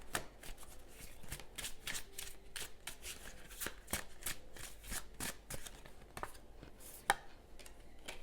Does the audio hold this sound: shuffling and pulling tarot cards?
yes